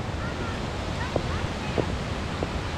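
A waterfall in Sequoia National Park pours continuously at a moderate distance, a soft broadband roar with a few faint clicks and taps.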